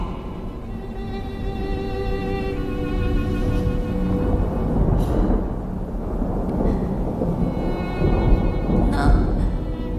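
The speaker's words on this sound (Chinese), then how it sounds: "雨已经停了。 可是还在打雷。" Low, sustained thunder rolls steadily after rain in a movie scene, with orchestral music layered over it and a few brief sharp accents, no talking.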